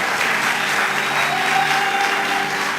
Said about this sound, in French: Est-ce que quelqu'un peut acclamer très fortement le Seigneur, s'il vous plaît?